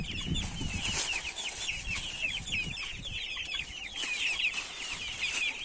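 Chickens cluck and chatter continuously in a busy chorus, with soft rustling and scattered fluttering underneath.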